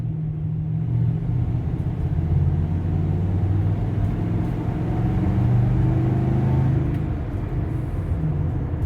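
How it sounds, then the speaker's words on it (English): A 2019 Nissan NV 2500 high-roof van with a 5.6-liter V8 and seven-speed automatic accelerates steadily, its low engine rumble loud and continuous throughout with no talk. "Has very nice acceleration."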